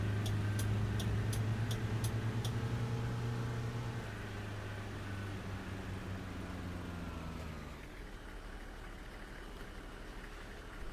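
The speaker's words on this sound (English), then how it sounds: "I do like the really loud indicators." In the video game Fernbus Simulator, a quick run of loud, sharp ticks from a bus turn indicator sounds over a steady engine drone, then the ticking stops while the low rumble carries on.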